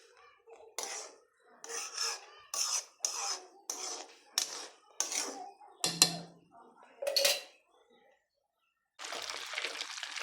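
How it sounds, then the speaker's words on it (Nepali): Spoon or ladle stirring homemade ghee boiling in a pot, a series of short scraping and rattling strokes in an uneven rhythm, then a pause followed by a softer continuous bubbling hiss. "घरिघरि यसरी चलाइराख्नुपर्छ।"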